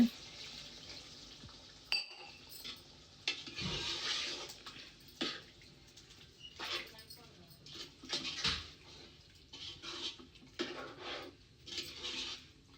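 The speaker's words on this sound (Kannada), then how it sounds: "ಒಂದು ಗ್ಲಾಸ್ ನೀರು ಹಾಕ್ತೇನೆ ಗ್ರೇವಿಗೆ" Water from a glass pours into simmering chicken gravy in a home kitchen, a splashing, sloshing run with brief clinks of the pan, heard close and fairly quiet with no talking.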